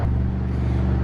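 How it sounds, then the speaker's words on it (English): Alfa Romeo Giulia Quadrifoglio GTAm with a titanium Akrapovic exhaust sits at a deep, throaty idle. The rumble is steady and close, lasting only a moment, and no one speaks. "That is a titanium Aquapovic exhaust, and it sounds incredible."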